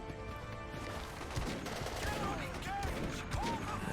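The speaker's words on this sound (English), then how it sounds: "I'm going to fire an RPG at the vehicle" RPG fired at an enemy vehicle in Battlefield 2: Modern Combat on Xbox One X, with several faint gunfire blasts and explosions scattered across a quiet, busy battle soundscape.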